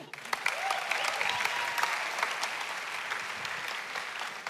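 An audience applauds four people, a steady, dense patter of clapping that starts at once and carries on evenly, with no voices over it.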